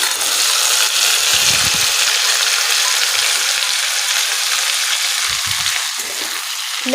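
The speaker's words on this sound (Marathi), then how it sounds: "छान परतून घेऊया" Chopped okra fries loudly in a pan with cumin and turmeric, a dense continuous sizzle close by, with a few low stirring thumps and no talking.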